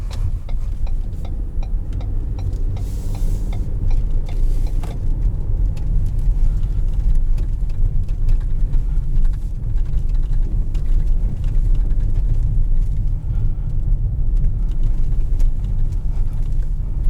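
2018 Ford Flex Limited rolling over a bumpy road section, heard from inside as a steady low road and engine rumble with scattered light knocks and rattles throughout.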